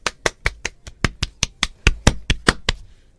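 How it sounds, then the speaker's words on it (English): Hands clap alone in a steady, evenly spaced rhythm, about fifteen sharp, close claps in quick succession. "I'm clapping because it was becoming so creepy."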